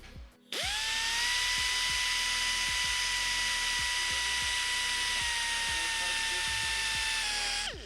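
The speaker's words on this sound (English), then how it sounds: "So I'm gonna try to grind away this excess Bondo and paint that's been put here" An angle grinder on a Lamborghini spins up suddenly and whines at a high, steady pitch as it grinds away Bondo and paint down toward the carbon fiber, with faint rhythmic ticking beneath. The motor drops slightly in pitch near the end.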